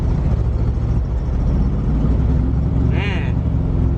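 Stock car being driven slowly around, a low steady engine rumble and road noise from inside the cabin, with a brief squeaky chirp partway through.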